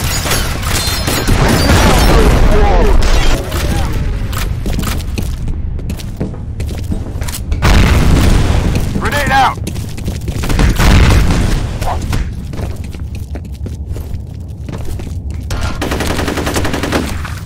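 Continuous gunfire and heavy explosions in the shooter game F.E.A.R. Combat, with loud bursts of automatic fire and booming blasts in dense waves, close and relentless, while voices shout over the combat.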